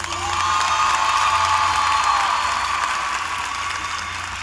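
A high school graduation audience applauds in a dense, sustained wash of clapping with some cheering, loud and even, slowly fading toward the end.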